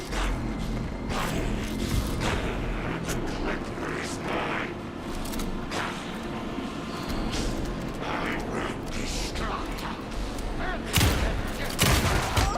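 Sustained gunfire in the horror game Alan Wake 2, a dense run of shots over roughly twelve seconds with a louder burst near the end, amid tense in-game voices and ambience.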